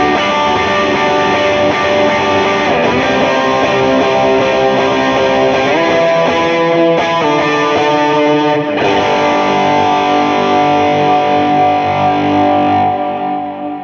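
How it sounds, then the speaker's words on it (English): Electric guitar played through overdrive with high gain, heavy reverb and delay, sustained chords and notes ringing loud and continuous with long wash-like tails and no talking. "There's a lot of gain into a lot of reverb and a lot of delay."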